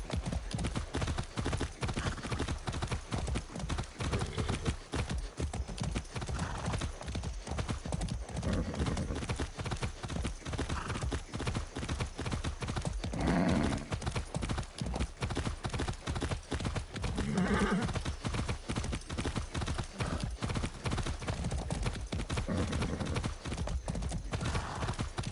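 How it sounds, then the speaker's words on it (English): Horse hooves clip-clop steadily in the Far Cry 6 video game, a continuous rhythmic trot heard throughout, with two short whinnies breaking in midway over a constant ambient bed. "That's a good horse."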